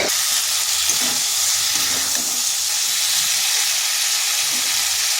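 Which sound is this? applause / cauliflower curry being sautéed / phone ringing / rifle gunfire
cauliflower curry being sautéed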